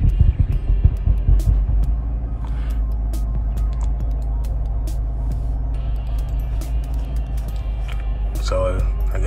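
A 2007 BMW X3 engine idling with a deep, throbbing rumble that rises and falls as the idle surges up and down on its own, close by, with a person talking over it.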